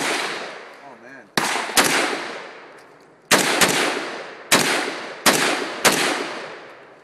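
AK rifle shots at an outdoor shooting pit, six loud sharp cracks fired singly and in quick pairs, each followed by a ringing echo that fades before the next.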